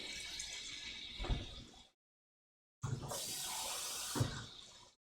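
Tap water running into a cooking pan of seasoning, two steady pours of rushing water separated by a short silence, each ending with a soft splash.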